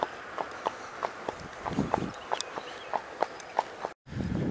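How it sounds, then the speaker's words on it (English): A horse walks near Somerville, New Jersey, on a long-distance ride, its hooves clip-clopping in a steady, evenly spaced rhythm close by over low outdoor background noise. "You're a great horse"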